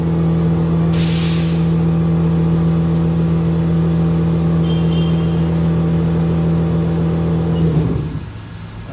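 A 2005 Haas VF4SS super-speed CNC vertical mill spindle runs at about 6,000 RPM, giving a steady loud tonal whine with a brief hiss of air early on, then winding down near the end.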